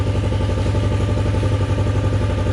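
A bobber motorcycle engine idles steadily close by at about 1200 rpm when warm, a low, even chugging rhythm with no revving.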